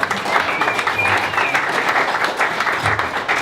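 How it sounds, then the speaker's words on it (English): Audience applause at a community open house for a company, steady dense clapping throughout with a murmur of voices mixed underneath. "So how about a round of applause?"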